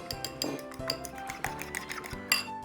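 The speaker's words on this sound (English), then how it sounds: "Now I need to whisk the egg" An egg whisked in a bowl for a Christmas fruit cake: a quick, regular run of close metallic clinks and taps from the whisk against the bowl, with no talking.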